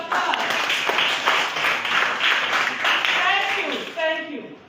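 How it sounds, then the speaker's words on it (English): Audience applause at a community day celebration, a dense steady wash of many hands clapping for several seconds and tapering at the end, with a few voices and cheers mixed in. "A round of applause."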